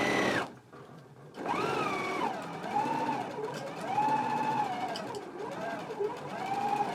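Sewing machine stitching yokes onto shorts at a 5/8-inch seam, a continuous close motor hum with slight wavering pitch over several seconds, no talk.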